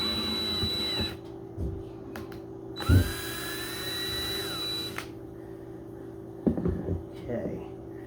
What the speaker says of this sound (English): I'm also keeping my finger on the hilt so that I do not drill into myself.